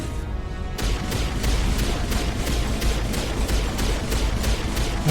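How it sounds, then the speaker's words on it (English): A ship missile defense system firing in the Mass Effect video game: a dense, continuous rattle of rapid shots that starts abruptly and keeps going, loud and close, with no voices. "Yeah, that's a ship missile defense system. Which would have been great if it was shooting at the enemy."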